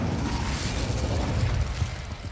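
An Incendio fire spell cast in a wizard video game erupts as a loud, broadband fiery whoosh and crackling burst, sustained for a couple of seconds before tapering slightly.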